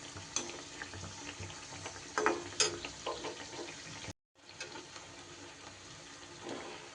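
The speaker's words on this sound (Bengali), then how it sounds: "এগুলোকে ফ্রাই করে নেব।" Gutke kachori, crisp fried dough balls, frying in hot oil with a steady close sizzle, bubbly crackles and occasional stirring clinks, briefly cutting out before the sizzle resumes.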